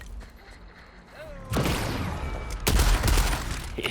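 Straylock 50-50 shotgun firing in the video game Deathloop: two heavy booming blasts about a second apart, each followed by a long rumbling tail, loud and close.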